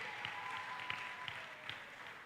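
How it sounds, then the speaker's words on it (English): Applause from a school graduation audience for the girls of a primary school's 2022 graduating class, a steady wash of clapping at moderate distance with a few sharper claps standing out. "So give the girls a round of applause as well."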